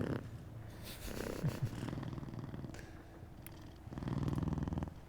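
A cat in the video game Book of Hours purrs close and steadily, the rhythmic rumble swelling louder toward the end.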